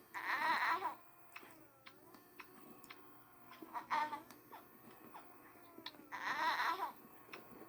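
A robot baby doll cries after its pacifier is taken out. Three short wailing bursts are separated by quieter whimpers and faint ticking, and the sound is soft and close.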